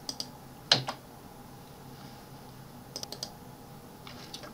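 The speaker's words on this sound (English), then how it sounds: "just type by keyboard these equations from keyboard" Equations are typed into Mathcad on a computer keyboard: a few sparse, crisp key clicks, one sharp press early and short clusters later, against a quiet room with no speech.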